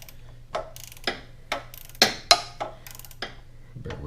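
Tightening a crank pulley bolt on a Mazda Protege: a series of about eight sharp ratchet clicks at uneven intervals, close and fairly loud, over a low steady hum.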